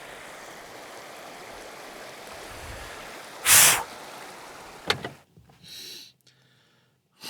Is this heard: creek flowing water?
yes